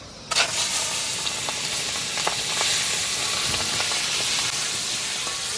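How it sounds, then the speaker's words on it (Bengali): Fish frying in a pan with onion and spices, a loud, even sizzle that starts abruptly and continues with crackling pops and occasional stirring scrapes, no talk. "এবার মাছটা ভাজা হবে।"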